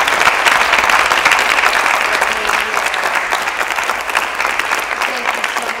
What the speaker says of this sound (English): let's give Walter a round of applause.